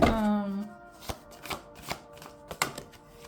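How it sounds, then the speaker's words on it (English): Tarot cards shuffled and drawn for a reading, with a handful of crisp, separate card slaps and flicks spaced about half a second apart over soft tonal background music. "We're gonna pull some cards."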